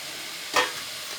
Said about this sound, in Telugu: దాన్ని కలుపుతూ ఉండాలి ఫ్రెండ్స్